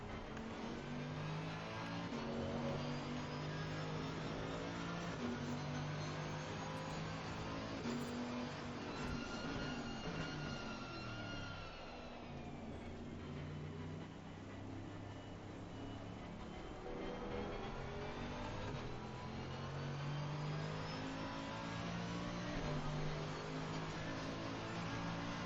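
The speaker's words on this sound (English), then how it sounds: "Just a little whine there of that Mercedes engine" Mercedes race car engine heard on board during a lap at Zolder in a racing video game, a steady loud whine and drone that rises and falls through gear changes, with no talking.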